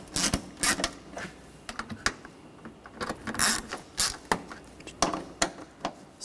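Ratchet wrench clicking in quick bursts as water pump bolts are tightened on a 2013-2019 Ford Escape 2.0L four-cylinder engine, close and moderately loud, with irregular pauses between runs of sharp clicks.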